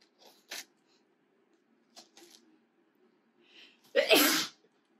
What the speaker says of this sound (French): Ça pique assez le nez pour que j'éternue.